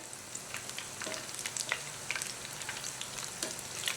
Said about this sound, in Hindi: दोबारा से ऑयल को गर्म करके अब मीडियम फ्लेम पर फ्राई कर रहे हैं नगेट्स को सेकेंड टाइम